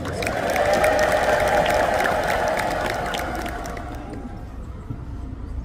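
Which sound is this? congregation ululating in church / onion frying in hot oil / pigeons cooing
congregation ululating in church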